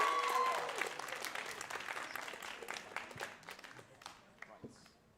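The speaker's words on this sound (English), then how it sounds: "Another round of applause to them." Applause and crowd noise at a student union election night, loud clapping that starts strong and thins out over a few seconds with some voices mixed in.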